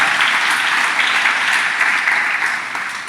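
A congregation at a church service bursts into sustained applause, a dense, loud clapping that fills the room and tapers slightly at the end.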